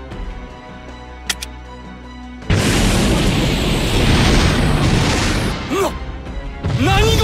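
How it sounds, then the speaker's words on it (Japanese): A massive explosion of liquid Sakuradite in the Code Geass Lost Stories video game bursts in after a quiet stretch, a loud sustained roaring blast that rumbles on for several seconds with no voices. "流体サクラダイトを爆発させると"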